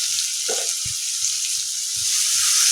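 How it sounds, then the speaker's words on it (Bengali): Cut potatoes sizzle steadily in hot oil in a wok, a loud, continuous hiss with a few soft knocks and stirring scrapes underneath. "আবার কড়াইতে তেল দিয়ে দিয়েছি এবার আমি কেটে থাকা আলুগুলোকে দিয়ে দেবো"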